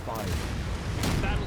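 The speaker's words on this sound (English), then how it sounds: "I'll just use one of my missile barrages." Missile barrage launched in the space strategy game Anno 2205, a brief rumbling volley of booming blasts, loud and continuous for a moment with a second surge near the end.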